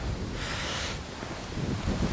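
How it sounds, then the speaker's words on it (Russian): Strong wind roars and buffets the microphone in a steady, rushing blast, with no voices. "Видите, ветрище."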